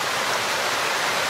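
Many small waterfalls along Gold Mine Run send up a steady, broadband rush of falling water, continuous and fairly close, with no voices over it.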